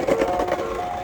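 An ice cream truck plays its jingle, a short, bright, looping chime melody heard clearly and alone for about a second.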